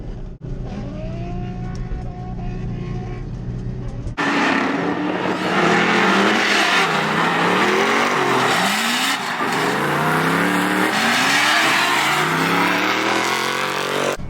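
Engines roar and rev continuously as two drift cars race close together in tandem at Willow Springs Raceway, with rising and falling pitch sweeps and tire noise throughout, loud and near.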